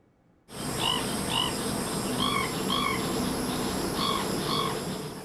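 Pheasant-tailed jacana calling from lily pads in Taiwan, a series of mewing, nasal notes in paired bursts repeated several times over a steady background hiss of wetland insects.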